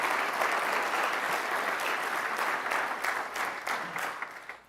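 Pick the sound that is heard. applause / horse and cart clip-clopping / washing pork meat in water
applause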